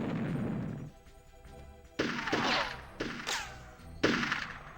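Gunfire while shooting an enemy in the N64 game Army Men: Sarge's Heroes, heard as sharp bursts of shots that come in clusters roughly a second apart, loud and close, each trailed by a short ringing decay.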